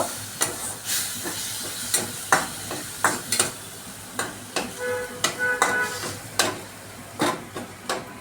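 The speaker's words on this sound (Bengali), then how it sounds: "রসুন পেস্ট দেওয়ার পর এটা আমি একটু ভাজা করে নেব।" Garlic paste sizzles in a hot pan under repeated sharp scraping strokes of a spatula, a steady hiss with rhythmic stirring clatter.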